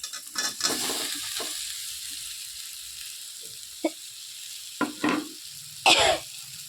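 Fried potatoes and soybean chunks are stirred into a thick, well-cooked spice paste in a pan, with intermittent sizzling bursts and scraping between quieter pauses.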